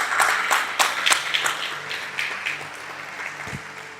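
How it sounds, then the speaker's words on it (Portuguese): Church congregation applauding the Lord, scattered claps with some louder individual hits over a lingering low tone, thinning out gradually, with a brief low thump near the end. "aplauda o Senhor por isso"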